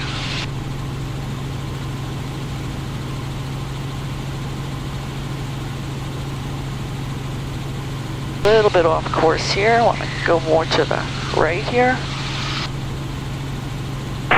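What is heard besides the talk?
small aircraft engine while taxiing to runway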